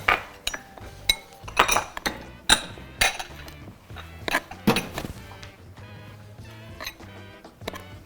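A spoon clinks and scrapes against a bowl while mixing poppy seeds and cocoa for chocolate brownie batter, in an irregular rhythm of sharp taps, close up and fairly quiet.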